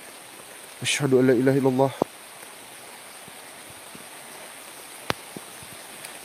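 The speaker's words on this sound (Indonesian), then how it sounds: "Hujannya makin." Heavy rain pours steadily over a deserted village, a constant hiss filling the whole stretch, while a voice briefly recites a prayer near the start.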